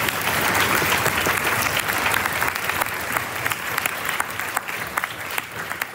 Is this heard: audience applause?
yes